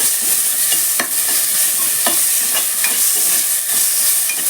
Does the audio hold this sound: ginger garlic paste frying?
yes